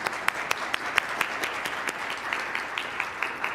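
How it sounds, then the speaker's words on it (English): Applause from an audience thanking a community shelter board sponsor, a steady patter of many hands at moderate distance with scattered sharper claps, holding level for a few seconds. "You can give a round of applause."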